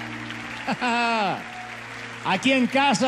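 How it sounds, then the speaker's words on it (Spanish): Congregation applause fills a church service, running steadily beneath a man's loud, animated voice as he speaks excitedly over the crowd. "Que no afloje el aplauso"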